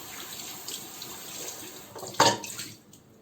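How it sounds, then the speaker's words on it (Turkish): Peeled boiled eggs are rinsed under a running kitchen tap, a soft steady trickle of water with a brief louder splash near the end, heard alone. "Şimdi yumurtalarımı güzelce yıkayacağım."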